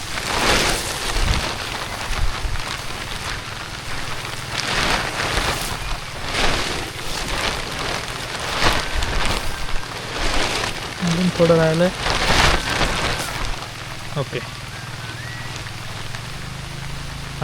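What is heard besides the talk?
light drizzle rain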